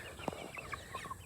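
Cornish hen chickens give a few soft, close clucks and short calls in quick succession over quiet background.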